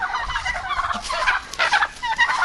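Several domestic turkeys gobble loudly and close by in overlapping rapid bursts, their rattling calls repeating throughout, in late autumn in a village.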